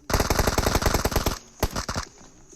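Rapid bursts of automatic gunfire in a shooter video game, loud and close, then a pause and a shorter burst of shots before a quieter mechanical reload sound near the end.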